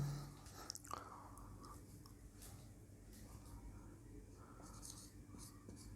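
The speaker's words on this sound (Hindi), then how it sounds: "एक तरफ लिखेंगे" A pen writing on a board or paper during a Hindi grammar lesson: faint, close scratchy strokes against a quiet background, with no speech.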